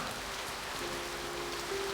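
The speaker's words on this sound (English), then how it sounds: "He watches the rain falling into the darkness" Rain falls steadily as a dense, even patter from the visual novel One, soft and continuous, with a faint low tone running underneath and no voices.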